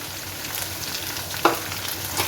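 Turmeric powder frying in hot oil in a wok gives a steady, close sizzle throughout, with one brief clink near the middle and no voices.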